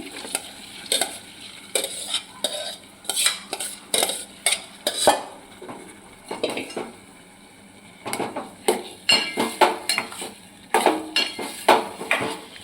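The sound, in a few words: stirring lentils into tomato masala in a pot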